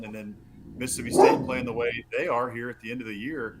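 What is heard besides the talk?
dog Archie barking at the window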